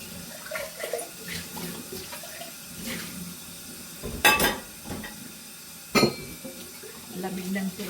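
Cold water running from a tap, a steady moderate stream with a couple of louder splashes or clatters, while someone talks intermittently over it.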